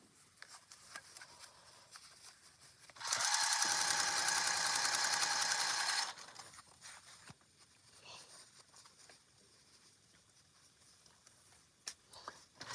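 A sewing machine stitches a park bag in one steady, fairly loud run of about three seconds, with quiet handling noises before and after.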